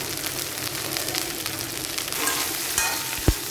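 Chopped beans being stirred as they fry in a pan for a Kerala payaru thoran, a steady sizzle with soft scraping strokes throughout and a sharper clack of the spoon near the end.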